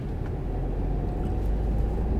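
A learner's car pulling away from a red light and accelerating in second gear, a steady low engine rumble with road noise throughout, close and continuous with no voices.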